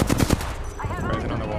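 Rapid automatic gunfire in Apex Legends rattles loudly in a quick burst at the start, followed by trailing impacts and game effects while a voice talks underneath.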